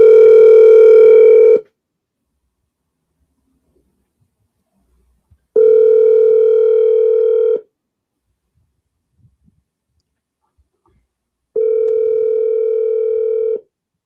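Telephone ringback tone heard while placing a call: three loud, steady buzzing tones about two seconds each, separated by roughly four-second silences, with no talk.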